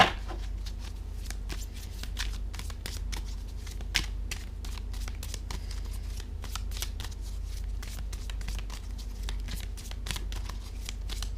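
Playing cards being shuffled by hand for a tarot-style card reading, a steady run of crisp riffling flicks and slaps close up, alone without talk.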